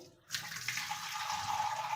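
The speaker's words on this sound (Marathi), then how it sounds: "आता प्रथम काय करू माथा माठामध्ये पाणी सोडून घेऊ" Water starts pouring suddenly into a clay pot, a steady hissing splash that continues evenly, close and fairly quiet.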